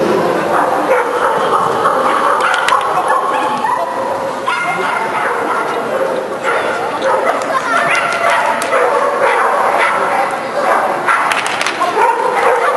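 Dogs barking and yipping at an indoor agility show in an arena, loud and continuous over a busy crowd din, with occasional whimpers.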